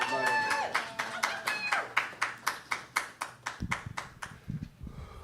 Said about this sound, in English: Round of applause for Hannah, everybody.